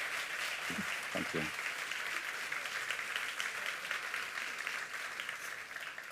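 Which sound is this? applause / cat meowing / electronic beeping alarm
applause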